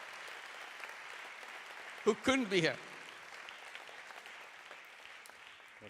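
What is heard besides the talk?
audience applause at the opening ceremony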